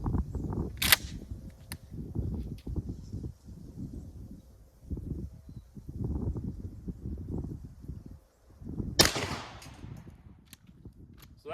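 Two sharp, loud shotgun blasts, buckshot fired at a body armor target backed by plywood about 10 yards away, arrive roughly eight seconds apart with quieter rustling and movement between them.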